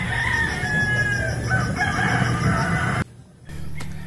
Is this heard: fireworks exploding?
no